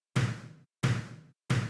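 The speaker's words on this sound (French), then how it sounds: "Donc c'est un son de kick avec une reverb de room." Three natural-sounding kick drum hits from an Addictive Drums kit, spaced evenly and struck alone, each with a punchy low thump followed by a short roomy reverb tail that decays before the next hit.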